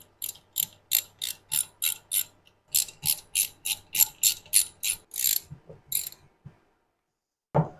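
A ratchet tightens the turbo oil adapter bolts on a GT35-turbocharged Acura RSX, sounding as two runs of even, rhythmic clicks close by, followed by a brief pause and a final knock.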